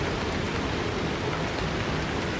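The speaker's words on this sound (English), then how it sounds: "It's rain." Steady rain from the driving game Pacific Drive, an even, continuous hiss that keeps a constant level with no distinct drops or other sounds standing out.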